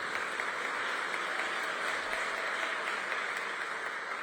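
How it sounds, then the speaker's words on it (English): Audience at a mayor's State of Metro address applauding 911 dispatchers, steady sustained clapping from a large crowd in a hall, even and continuous throughout with no talk over it. "Year to date, you can applaud for them."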